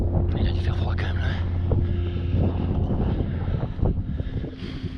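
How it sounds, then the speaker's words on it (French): Cold wind buffets the microphone in low rumbling gusts on a mountain summit in the Pyrenees, steady throughout, with some faint voices mixed in. "Il y a un petit vent glacial."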